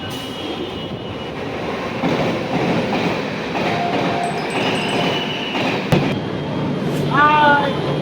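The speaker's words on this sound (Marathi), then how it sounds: "ट्रेन आली आता." A delayed Chennai Express passenger train pulls into a platform at Karjat on the Badlapur to Pune route, a loud steady rumble of rolling wagons with a sharp clank near the middle and high wheel squeals toward the end.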